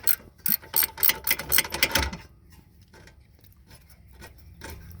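A hand ratchet turns brake caliper bolts on a 1999 Toyota Avalon XLS, a fast run of close, sharp clicking for about two seconds, then quieter scattered clicks and tool handling.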